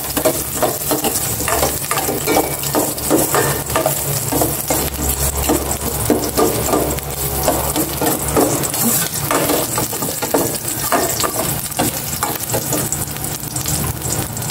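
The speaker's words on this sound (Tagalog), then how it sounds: "Gisa ko na itong bawang." Garlic sautéing in hot cooking oil for pork and tofu adobo with eggplant, a steady loud sizzle and crackle with occasional stirring scrapes, continuous throughout.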